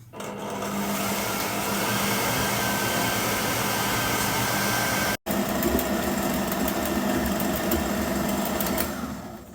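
An electric hand mixer runs steadily at medium speed through lemon cupcake mixture, a loud continuous motor whir with one abrupt brief cut-out midway before it resumes.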